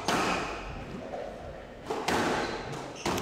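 Squash ball struck hard on a volley during a PSA Challenger Tour match at the Panmure Tecnifibre Open, a couple of sharp thuds and slaps over steady crowd and court ambience, with a commentator talking across them.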